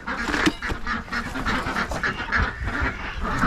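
Dense, overlapping quacking from a flock of ducks on a smallholding in the morning, loud and steady throughout with no pauses.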